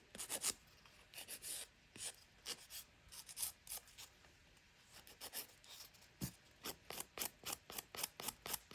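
A nail file buffs the edges and sides of a gel nail tip extension in quick, close, soft scratchy strokes. Short rasping bursts come in an irregular rhythm and then a steadier rhythm toward the end, quiet and with no talk.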